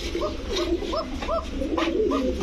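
Pigeons at a pigeon sale give a series of repeated, close cooing calls in a steady rhythm, about six coos in quick succession, with a faint murmur of background noise.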